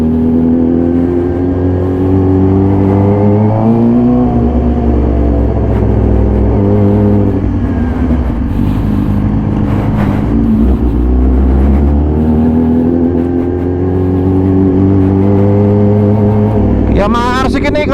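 A modified 2014 Yamaha YZF-R6 sport bike engine revs loud and close, pitch climbing and falling through repeated sweeps, with a sharp high rev near the end.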